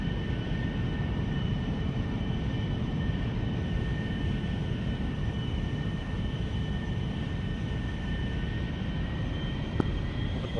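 A military aircraft taxiing onto a runway in the DCS flight simulator, a steady engine drone with a constant high whine held evenly throughout, fairly close and unbroken, with one brief click near the end.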